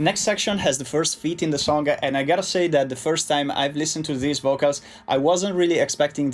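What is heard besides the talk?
No everyday noises stand out.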